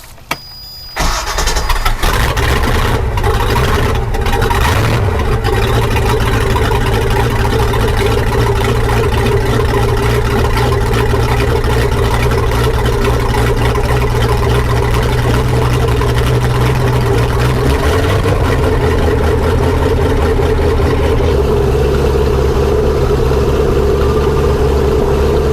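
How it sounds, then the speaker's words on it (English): Mercruiser 5.7L boat engine cold start: a brief crank, then it catches and settles into a loud steady idle with a deep rumbling drone that runs throughout, heard close. "We're gonna get a cold start on the motor now."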